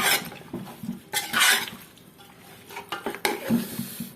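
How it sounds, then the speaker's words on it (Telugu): A spoon stirring chicken dum biryani ingredients with coriander in a metal pot, irregular scraping and clinking strokes, close and fairly loud, with brief clattering bursts and no talk. "ఒక స్పూన్తో దీన్ని కలుపుకుంటున్నాను."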